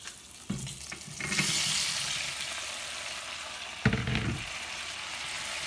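Boiled food is drained in a home kitchen, a rushing pour of water into a sink lasting a couple of seconds, followed by a short second splash; no one speaks.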